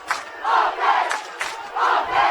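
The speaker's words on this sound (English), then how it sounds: "And now the Dakota Wesleyan crowd chanting defense." A Dakota Wesleyan college football crowd chants "defense" in loud, rhythmic surges of massed voices, three or four swelling calls repeating across the stands of a stadium.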